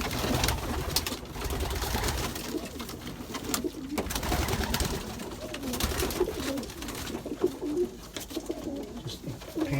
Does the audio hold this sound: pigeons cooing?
yes